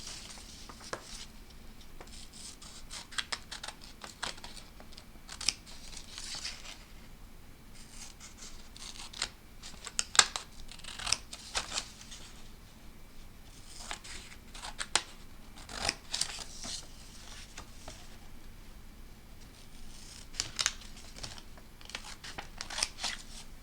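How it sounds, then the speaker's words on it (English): Scissors snipping through a paper foldable, cutting strips from the middle to the edge in repeated short crisp cuts with small pauses between, close and clear over a quiet room with no voices. "now I just need to take my scissors and go ahead and cut each of these from the middle to the edge there."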